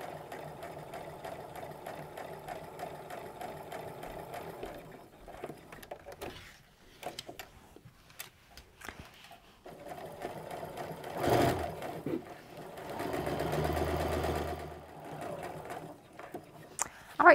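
A sewing machine stitches an apron waist tie, running in steady whirring bursts close by with brief pauses between them for pivoting, plus a few soft handling clicks.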